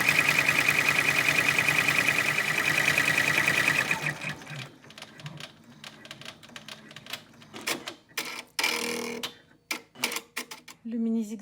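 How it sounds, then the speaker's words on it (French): A domestic sewing machine embroidering a mini zigzag stitch, running loud and steady for about four seconds, then stopping; afterwards come scattered handling clicks and rustles with someone speaking French. "Maintenant, on brode le mini zigzag."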